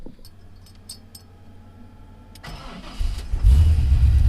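A Chevrolet Malibu fitted with a 6-liter engine from a 2003 Silverado cranks briefly after some quiet clicks, then catches and settles into a loud, close idle that swells in the final second, with no talking.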